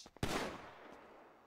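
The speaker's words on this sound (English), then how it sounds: "He just shot a gun." A single sharp gunshot in the GTA V roleplay game rings out close and loud, followed by a long decaying echo with no talking.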